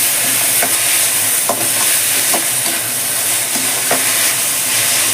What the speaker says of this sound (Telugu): ఈ విధంగా ఒకటి వెనక ఒకటి మనము వేసుకొని వేయించుకోవాలి మంచిగా.